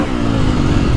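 KTM 450SXF Factory Edition motocross bike engine, a loud, steady, close droning rev that holds without a break, no voices.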